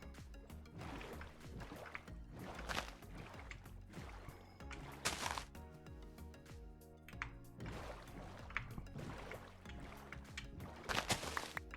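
A boat glides across water in Minecraft with soft repeated splashing and paddling sounds, quiet and rhythmic beneath layered game music.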